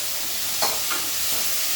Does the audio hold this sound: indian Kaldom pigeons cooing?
no